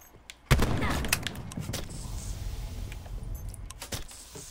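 Weapon reload in the Black Ops 4 Blackout video game: a sharp metallic clack opens, then a run of rattling, jangling mechanical clicks and a few further snaps over a low rumble.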